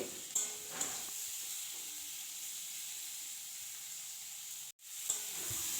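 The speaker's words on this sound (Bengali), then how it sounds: "আলু কিন্তু ভাজা হয়ে গেছে, দেখেই বুঝতে পাচ্ছেন" Potatoes frying in oil with salt and a little turmeric, a soft steady sizzle with occasional stirring clatter, close but fairly quiet, briefly cutting out near the end.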